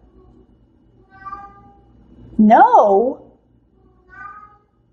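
A house cat gives one loud, drawn-out meow close by, with softer vocal sounds just before and after, and a brief spoken word.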